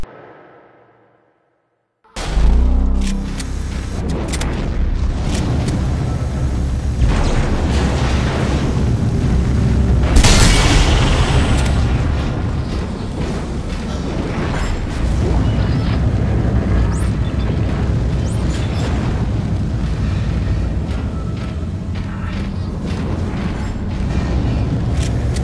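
Explosions in the video game Dead Space 2 erupt after a brief silence: a loud, sustained roar of booms and rumbling blasts that stays dense throughout, with sharper bursts along the way.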